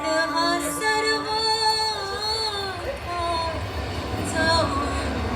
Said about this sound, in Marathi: प्लॅटफॉर्म नंबर 3 वर आलेली गाडी 4:26 छत्रपती शिवाजी महाराज टर्मिनसला जाणारी धीमी लोकल आहे